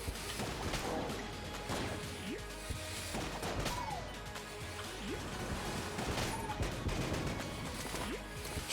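Enter the Gungeon gunfire comes in repeated sharp bursts and clacks at an uneven pace, loud and close over a busy game soundtrack.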